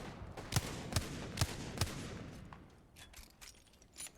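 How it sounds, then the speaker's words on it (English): Carbine gunfire in a competitive first-person shooter match, four sharp evenly spaced shots in quick succession followed by softer, more distant pops, with no talk over them. "that's while he's being suppressed by this pesky carbine"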